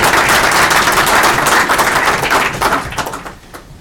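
A school district audience gives a loud, sustained round of applause, dense clapping that holds steady and then tapers off toward the end.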